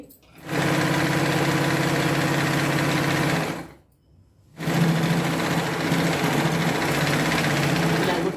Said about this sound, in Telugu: ఇక్కడ నుంచి మన లూజ్ ప్రకారము కుట్టు వేసేద్దామండి